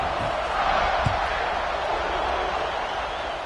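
A virtual stadium crowd in College Football 26 roars before the kickoff, a continuous wall of cheering with a brief thud near the start, sitting under a commentator's voice.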